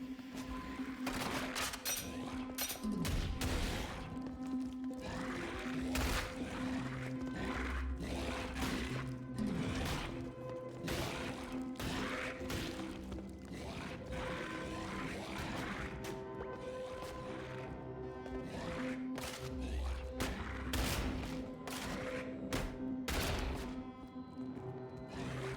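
Dynamite and bomb blasts from a video game go off in rapid, irregular bursts of booming crashes and thuds. They stay loud and near throughout, over a steady droning game background.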